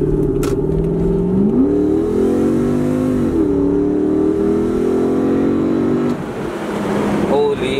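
A Lexus SC430 fitted with an Injen short ram intake revs loudly, its engine note rising and falling through two climbs and holding before settling toward idle, heard up close.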